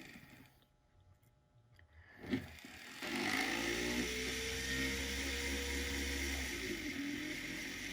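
A cylinder burr on a rotary tool cuts into metal for pave stone setting, starting with a short scrape and then a steady high whir that grinds on for several seconds, close and fairly quiet.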